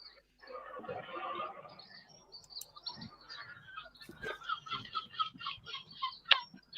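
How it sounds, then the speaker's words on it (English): Small birds chirp in quick, repeated bursts that grow busier toward the end, fairly faint and close, over a quiet background with a brief earlier murmur. "Stupid birds."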